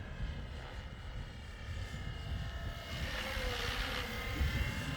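A 3D-printed Hughes MD500 RC helicopter flies outdoors in wind, its rotor and motor whine holding steady and fairly faint at a distance, with gusty wind noise underneath.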